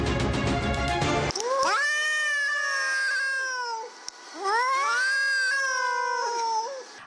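Two cats facing off in a standoff, trading long, rising and falling caterwauling yowls that swell and fade in drawn-out waves, loud and close, with no talk.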